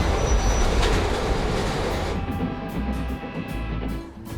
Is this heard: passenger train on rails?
yes